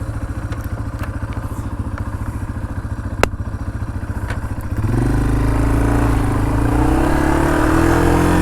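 A Yamaha TW200 small dual-sport motorcycle rides in sixth gear, its single-cylinder engine thumping in a steady close rhythm, then the tone rises and thickens as it pulls harder, loud and alone without talk.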